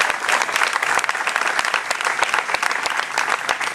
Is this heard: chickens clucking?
no